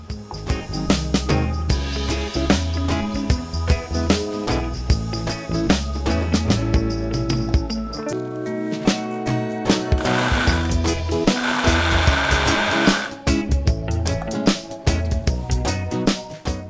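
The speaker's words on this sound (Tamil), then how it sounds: "இந்த திணை அரிசியில் மிக்சியில் போட்டு கொஞ்சமாக அப்படி லைட்டாக ஓட்டி எடுத்துக்கலாம்." A kitchen mixer grinder runs in short bursts, briefly grinding foxtail millet into coarse grits, its loud whirring motor and rattling jar starting and stopping with a brief pause near the middle.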